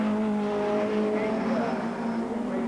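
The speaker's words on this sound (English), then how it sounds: "And there is James Weaver winning Class B in the white BMW M3" A white BMW M3 race car from a 1989 British Touring Car Championship race drives in, its engine holding a steady loud drone with sustained tonal harmonics.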